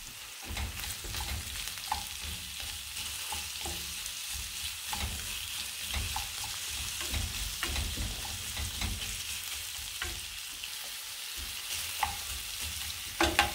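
Six onions fry in a pan for a tuna pasta dish, giving a continuous close sizzle with frequent spoon scrapes and clicks that grow busier near the end, and nobody speaks.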